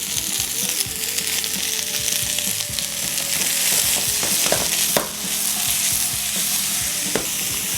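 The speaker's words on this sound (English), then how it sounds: "we're just going to saute these till they start to get a little bit tender" Peppers and onions sauté in a hot pan, seasoned with salt and black pepper, giving a steady, loud sizzle with occasional stirring clicks and scrapes throughout, no talking.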